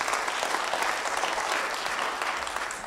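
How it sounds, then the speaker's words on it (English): An audience at an education conference bursts into dense, even applause that holds steady for a few seconds, with faint crowd murmur beneath. "A round of applause for him,"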